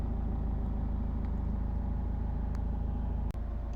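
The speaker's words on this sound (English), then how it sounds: "there are no warning lights on the dashboard at all whilst the engine's running there" A Honda CR-V 1.6 i-DTEC diesel with 4WD idles steadily, a low, even rumble with a slight regular pulse and a faint click near the end, heard close and alone.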